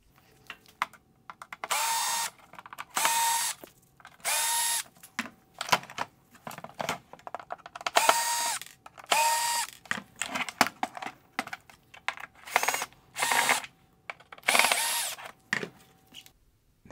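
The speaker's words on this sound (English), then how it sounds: "I will go around the perimeter of the light and remove the Phillips head screws holding the lens to the body." Power drill backing Phillips head screws out of the lens perimeter of a 2014-2017 Infiniti Q50 OEM LED headlight, in repeated short whirring bursts with quiet pauses between, close and fairly loud.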